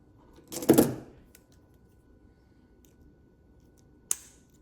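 Jewelry wire is trimmed with cutters after a simple wire loop holding a seed bead on Czech glass bead earrings; two sharp, brief snips sound, one early and one near the end, in a quiet room.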